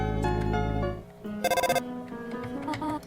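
A phone rings in Undertale as a short burst of rapid, buzzy electronic ring pulses, cutting in briefly amid the game's tonal music and blips.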